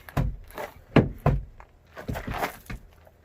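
A Jeep door lifted off its hinges, a few dull thunks and metallic knocks spaced unevenly at close range, along with soft handling clatter.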